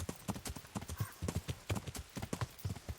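Horse hooves clip-clop in a steady, uneven rhythm across rough ground in Kingdom Come: Deliverance, with a brief whinny in the middle, close and clear with no talking over it.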